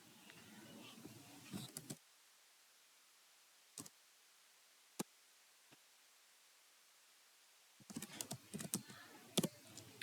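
Computer keyboard typing while entering an Excel formula, with quick bursts of close key clicks at the start and end separated by a near-silent gap with only a few isolated taps.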